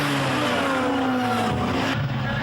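Rallycross cars, among them a Saab, racing at Croft Circuit as they cross from loose surface onto tarmac, loud engine roar with revving pitch changes and a brief shift near the end.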